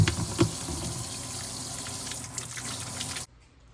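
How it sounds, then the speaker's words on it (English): Water from a kitchen tap runs steadily while hands are washed beneath it, a close, continuous splashing hiss that stops abruptly near the end. "wash my hands"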